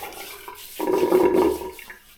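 Water runs from a tap during a shave, a broad steady gush that starts abruptly, holds for nearly a second, then fades away, close and fairly loud with no voices.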